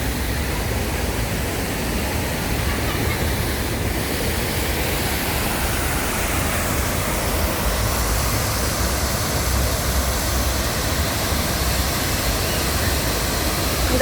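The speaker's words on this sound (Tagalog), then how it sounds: "Ang ganda ng tunog ng tubig," Steady, loud rush of a waterfall and flowing water in Tsuen Wan Park, Hong Kong, a dense unbroken roar filling the whole stretch with no pauses or voices.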